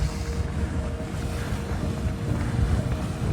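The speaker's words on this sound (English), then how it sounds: "The Grotto Geyser was erupting while we walked by." Grotto Geyser erupting in Yellowstone National Park, a steady broadband rush of water and steam with low rumble, continuous and fairly loud, mixed with wind buffeting on the microphone.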